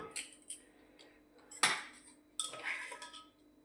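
Metal clinks and clatters of a pressure cooker being opened, a sharp clank in the middle and a rattling knock near the end, close by, no voices.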